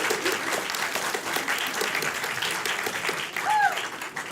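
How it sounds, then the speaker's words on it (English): Audience applause for the debaters at a debate event, sustained loud clapping throughout with a faint whistle near the end. "another round of applause for the debaters"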